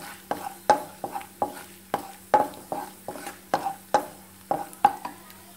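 Cashews being lightly roasted in ghee are stirred with a steady rhythm of sharp spoon taps and scrapes against the pan, about two each second, over a faint sizzle.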